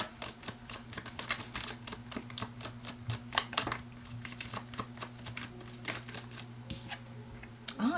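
Tarot cards are shuffled and handled up close, producing quick, dense riffling flicks and soft snaps in a steady patter under a faint background hum.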